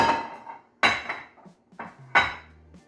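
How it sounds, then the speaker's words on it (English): Pizza-stuffed potatoes go one by one into a greased pan, making a few sharp clanks and knocks of metal and crockery spaced apart, close and alone with no talk. "With each of these potatoes, I'm going to put them in a greased"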